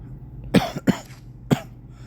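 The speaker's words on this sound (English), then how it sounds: "Sorry for coughing." A person coughs three times in short, sharp bursts, close and fairly loud, with quiet pauses between the coughs.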